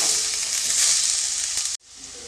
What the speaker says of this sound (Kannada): ಇವಾಗ ಈರುಳ್ಳಿ ಮತ್ತು ಹಸಿಮೆಣಸಿನ್ಕಾಯಿನ ಒಂದು ಸ್ವಲ್ಪ ಫ್ರೈ ಮಾಡ್ಕೊಳ್ತೀನಿ